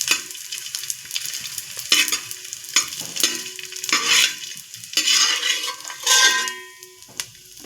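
Edible gum (dink) frying and puffing up in hot fat, crackling bursts of sizzle that swell and fade in waves, mixed with metallic scrapes and clinks of a spoon against the pan, close and loud.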